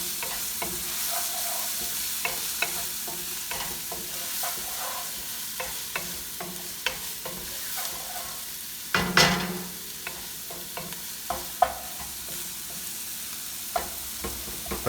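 Onions fry over high heat in a pan while making aloo gobi, a continuous sizzle broken by frequent scrapes and stirs of the spatula, one louder clatter midway.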